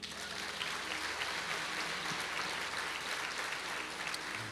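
A church congregation applauds, a dense steady clatter of many hands that holds at an even level from start to finish.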